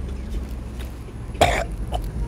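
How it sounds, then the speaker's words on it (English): A single short cough bursts out near the middle, close by, against a quiet room hum. "Why you coughing?"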